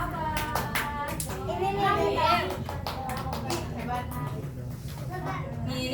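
Children clap out the Indonesian 'tepuk anak soleh' rhythm, sharp hand claps in quick patterned bursts mixed with their chanting voices and a lively group din.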